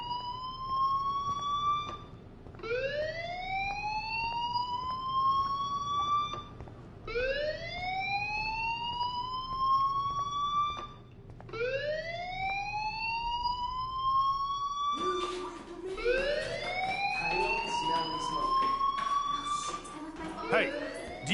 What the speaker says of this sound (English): Hey, do you hear that fire alarm? That means you should be outside.